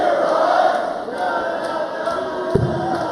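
Darts crowd at the 2019 Grand Slam of Darts final cheering steadily throughout, a broad sustained roar of voices with a brief thud near the end.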